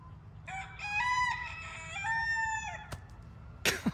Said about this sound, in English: God, these roosters